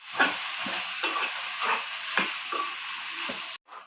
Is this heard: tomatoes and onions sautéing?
yes